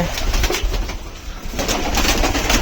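Sirajee Lakka pigeons, one white and one black, in a loft with chicks in the nest boxes, cooing in soft repeated low murmurs over a loud, busy background, with no talk.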